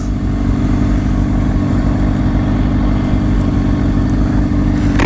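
Motorcycle engine held at high, steady revs throughout a wheelie on a group ride, a loud, continuous close-up drone with no talk.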